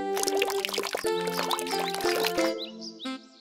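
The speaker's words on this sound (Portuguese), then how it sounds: "Derrame um pouco de água na plantinha." Water is poured onto a plant in a children's animated cartoon, a short trickling splash set against bright, busy background music that cuts off near the end.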